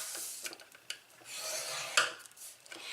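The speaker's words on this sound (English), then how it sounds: "we're going to score this at 1 inch, and then again at 2 inches, and we're going to do this on all 4 sides" Cardstock scored for a gift box lid gives a quiet, dry scraping rasp in short repeated strokes, close up and steady, with no talking.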